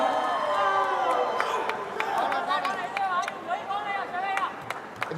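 Thai delegation members cheer and chatter in a steady crowd roar for their team at a sepak takraw World Cup match, with voices rising and falling and sharp ball kicks cutting through.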